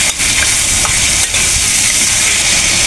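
Chicken pieces sizzle and fry steadily in a hot pan as they are sautéed down, a continuous crackling hiss with a few soft stirring scrapes and clinks, close and alone without any talk.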